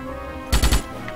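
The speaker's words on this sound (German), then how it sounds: "Dann schießen wir uns halt durch." A short, close burst of three rapid loud gunshots in the Starship Troopers video game, with a faint background hum before and after.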